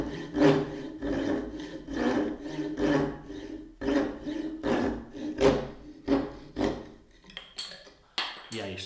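A hand saw cuts wood for a bridle joint, its close, steady back-and-forth strokes rasping in an even rhythm of roughly two per second before slowing and breaking off near the end.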